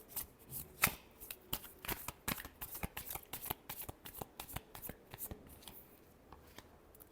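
Tarot cards are shuffled by hand in a quick run of crisp riffling flicks, dense and close. The flicks are quiet overall and thin out toward the end.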